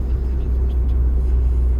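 A car rolls along at 45 km/h, its low engine and road rumble holding steady and close throughout the short stretch, with no speech over it.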